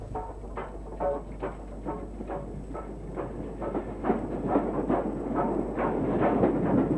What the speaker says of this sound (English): former LMS Royal Scot class number 46146 was named the Rifle Brigade